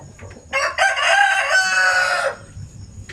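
A Basilan or Zampen rooster gives one loud, close, drawn-out crow lasting about two seconds, with faint clucking from the chickens just before and after.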